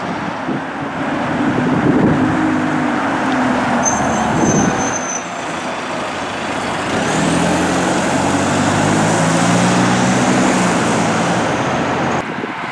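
A replacement bus passing along a road in Brereton near Rugeley, a steady heavy engine rumble swelling and fading with wind buffeting the microphone, a brief hiss and whine over the traffic noise, no voices.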